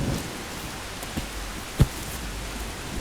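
Steady rain falls in a dense, even hiss, with a few sharper drips or knocks standing out briefly, and no voices.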